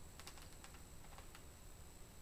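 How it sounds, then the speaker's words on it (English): Quiet, rapid keystrokes on a keyboard with a built-in scroll wheel and trackball, a few light clicks over a faint steady hum. "with my keyboard that has a scroll wheel and a trackball"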